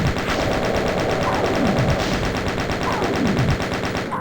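Rapid, continuous machine-gun fire from Doom 2 on map 22, Absolute Hatred, rattling loud and steady without a break for several seconds.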